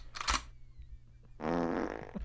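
A fart in a casual comedy setting: two blurts, a short one early and then a longer, sputtering, vibrating one, both close and fairly loud against a quiet background with a low steady hum.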